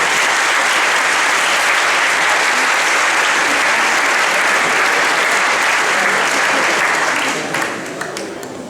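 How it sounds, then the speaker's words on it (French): A loud, continuous round of applause from an audience at a stage hypnosis show, thick and even throughout, thinning into scattered claps over the last second or so. "Donc déjà on peut les applaudir."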